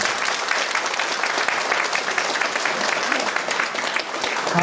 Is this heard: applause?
yes